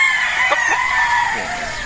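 Gamecock battle stags on a farm crow loudly and close, one drawn-out crow with clucking mixed in.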